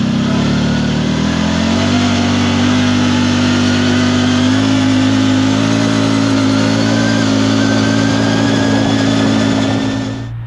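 A CFMOTO Z-Force 950 HO EX side-by-side engine drones loudly and steadily at about 75% throttle, its pitch climbing as it accelerates and then holding a sustained high-revving tone before cutting off.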